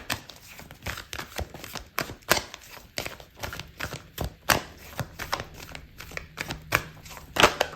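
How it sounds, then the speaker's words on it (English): Tarot cards are shuffled and handled up close, a quick run of crisp riffling snaps and flicks in an uneven rhythm with no voice. "Okay, so I'm gonna pull out a card for your advice"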